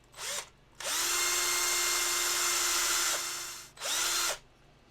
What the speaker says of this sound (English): because this is such a big piece, we can use our big drill